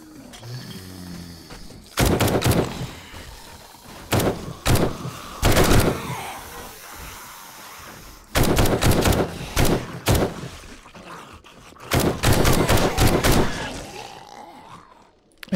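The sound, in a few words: SMG and AR gunfire in video game 7 Days to Die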